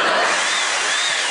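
A chainsaw runs loud and steady the whole time, a dense, harsh engine roar with a faint whine riding on top and no voices.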